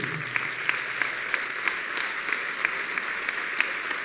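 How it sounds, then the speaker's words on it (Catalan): A large audience at an awards ceremony gives sustained, strong applause, a steady dense clapping with occasional louder claps standing out, continuing throughout. "Aquest fort aplaudiment va per ells perquè sense ells nosaltres no estaríem ací."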